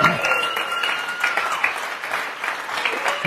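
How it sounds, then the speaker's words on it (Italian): A church congregation stands and applauds during a worship service, a steady, lively burst of many hands clapping together, with some cheering and voices layered over the clapping. "facciamo un applauso al Signore."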